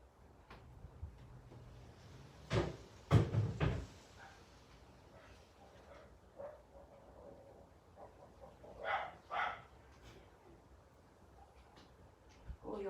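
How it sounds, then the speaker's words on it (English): A neighbour's dog barks in a few loud bursts nearby, mixed with door-like knocks and bumps, then quieter scattered sounds follow in a still room. "It's my next door neighbour's dog."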